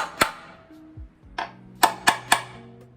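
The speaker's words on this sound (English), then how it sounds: "I'm gonna punch these for easy drilling" Sharp metallic taps of a punch marking metal for drilling ring out, one early then three quick strikes close together, each leaving a short ringing tone in a quiet space.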